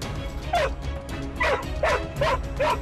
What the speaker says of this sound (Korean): 주행하는 동안 주변에 다른 차가 보이면 끊임없이 짖습니다